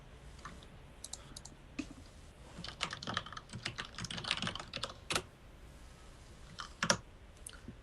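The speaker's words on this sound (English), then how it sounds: "The typing was me getting that to him." Bursts of typing on a computer keyboard come in clustered clicks, sparse at first and then dense and busy in the middle, with a few louder isolated keystrokes near the end, fairly faint against a quiet room.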